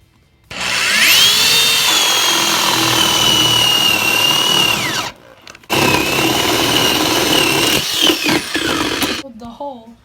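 A power drill fitted with a 1.5 inch bit bores a hole through the wooden front of a birdhouse, a loud steady whine running for several seconds, briefly stopping, then resuming until the bit breaks through.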